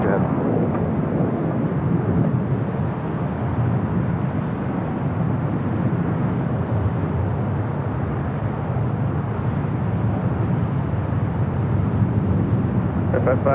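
KLM heavy jet airliner taking off at LAX: a continuous, loud, broad engine roar that holds steady throughout, with wind buffeting the microphone and no speech.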